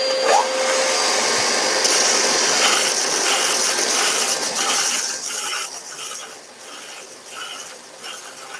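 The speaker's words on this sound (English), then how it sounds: "onto my belt and disc sander. Extraction on." A belt and disc sander runs loudly with its dust extraction roaring, shaping the end of a wooden Kubb lawn game piece, a steady close whine that dips and shifts as the wood is rolled against it.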